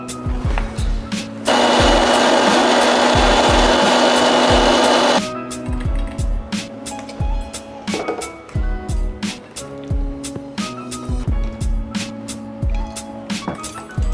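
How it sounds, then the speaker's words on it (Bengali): A kitchen mixer grinder blends chopped ingredients with about a spoonful of water, running as one loud, steady whirring roar for several seconds before stopping, with clatter and knocks of the jar and utensils around it. "এখন গ্রাইন্ড করে নেব, তাই মিক্সচার বাটিতে দিয়ে দিচ্ছি"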